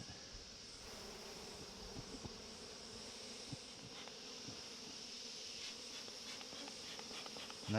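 Agitated honeybees from an open hive during a beekeeping inspection, a steady dense buzz of many insects with occasional closer passes and faint handling rustles, no talk.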